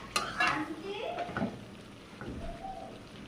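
Ridge gourd frying in a pan: a soft, steady sizzle with stirring scrapes and clinks, while someone talks over it.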